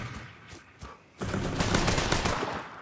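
Gunfire in the video game Mafia III on PS4, with a few separate shots followed by a sustained loud burst of rapid firing and clattering impacts, close and dense, with no talking.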